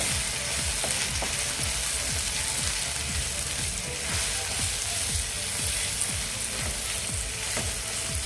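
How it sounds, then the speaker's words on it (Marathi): Tomato is stirred with red chili powder, turmeric and garam masala in a pan for a pea-peel bhaji, a constant sizzle broken by frequent rhythmic scraping strokes of the spoon. "आता यामध्ये आपण मसाले घालून घेऊया लाल तिखट हळद आणि गरम मसाला आता हे आपण पुन्हा एकदा व्यवस्थित मिक्स करून घेऊया"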